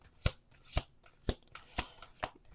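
Oracle cards being shuffled by hand at a table, six sharp riffling bursts in a steady rhythm, close and distinct with no talking.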